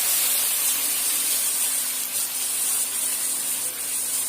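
Onion, garlic and ginger paste sizzling in a pan with chicken, a steady loud hissing fry that holds evenly from start to finish with no talking.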